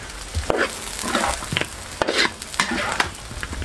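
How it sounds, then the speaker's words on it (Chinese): Chicken wings frying in hot oil with garlic, stirred in a wok, give a steady sizzle broken by repeated scraping and clatter of the spatula, close and fairly loud. "炒出蒜香味后下入鸡翅"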